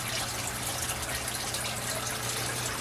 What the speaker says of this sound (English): I have the tub, the water pump inside the tub plugged in